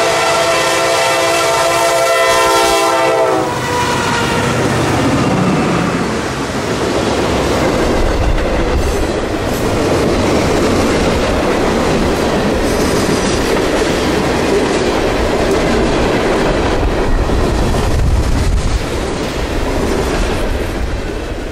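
A southbound freight train, Q441, passes on an overcast evening in Florida, opening with a horn blast and then a long, loud, steady rumble of rolling wheels and rhythmic clacking on the rails.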